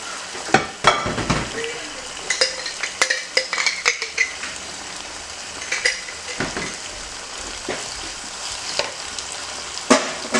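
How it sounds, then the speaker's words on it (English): A sauce for red fish benachin (thiebou dieune) is stirred and mixed in a pot, with repeated irregular scrapes and clinks of a utensil against the pot over a soft frying sizzle, heard alone without talk. "So you're just gonna keep mixing."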